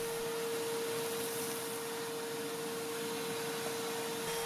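A shop vacuum runs steadily while cleaning out an old wood stove, a constant loud whooshing roar with a fixed motor hum that keeps going with no pauses and no voices.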